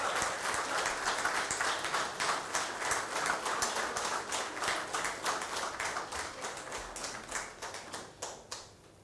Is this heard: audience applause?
yes